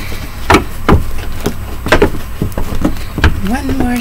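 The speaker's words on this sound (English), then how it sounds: "One more shuffle." A deck of tarot cards shuffled up close, sharp irregular taps and riffles spaced through the moment, with a brief voice near the end.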